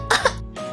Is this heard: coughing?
yes